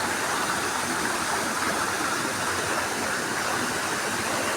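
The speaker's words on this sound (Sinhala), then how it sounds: "මේ ඇල්ල මොහොම බෙදිලා ගිහිල්ලා පල්ලේ ලොකු වලක් තියෙනවා" A waterfall pours down in split streams into a large pool below, a steady, loud, broadband roar of rushing water that fills the whole span without pause, with no voices.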